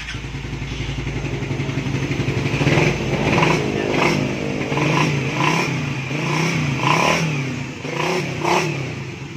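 A Suzuki Raider 150 Fi motorcycle engine runs close by and revs repeatedly in short bursts, each rise in pitch followed by a drop back toward idle.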